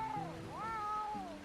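A cat meows in Red Dead Redemption 2, two clear close-up mews with rising and falling pitch, fairly quiet and alone.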